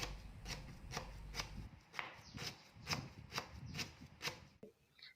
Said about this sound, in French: Pour préparer la citronnelle, le plus simple est d'entailler le bâton dans le sens de la longueur, puis de couper en fines tranches.